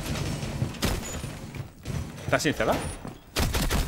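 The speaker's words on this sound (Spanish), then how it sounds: "Vale, me voy a disparar aquí por si acaso." Gunfire from a suppressed weapon in Rainbow Six Siege, a few sharp thuds and bursts spread through the moment, heard up close beneath someone talking.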